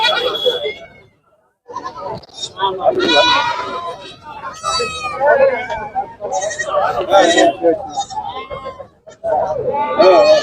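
Young Kongu goat kids bleat repeatedly and loudly at the Kunnathur goat market, their cries overlapping with nearby people talking and general market chatter.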